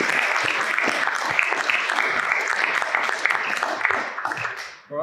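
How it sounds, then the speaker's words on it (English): An audience at a Taranaki talk on technology and the environment breaks into a round of applause. Many hands clap in a thick, lively patter that holds steady, then tails off sharply near the end. "Big round of applause."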